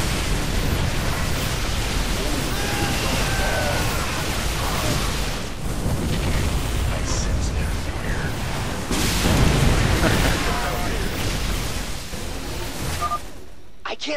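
Rumbling explosions from the game StarCraft 2 pile up into a loud, continuous, noisy wash with repeated booms and bursts, and a voice speaks faintly within it.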